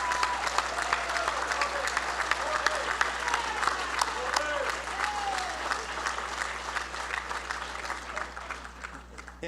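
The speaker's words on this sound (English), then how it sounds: "so we can give you a round of applause" Hall of Fame awards audience applauds the inductees with sustained, dense clapping that fills the room at a steady level, with a low hum underneath and faint voices mixed in.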